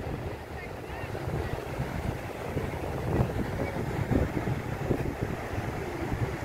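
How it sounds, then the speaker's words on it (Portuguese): Sea waves washing onto a beach at sunset, a continuous, moderately faint rolling wash with slightly stronger surges toward the middle and later, mixed with soft breeze. "olha o barulho do mar"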